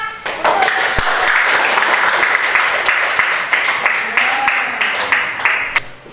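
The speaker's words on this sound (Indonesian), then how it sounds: "Tepuk tangan." A classroom of second-grade pupils claps hands together in a dense, sustained burst of applause that lasts several seconds and ends with a few scattered final claps.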